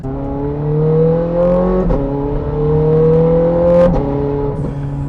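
A Ferrari 430 Scuderia engine revs up in smooth rising sweeps, dropping briefly between pulls, loud and close with no talking.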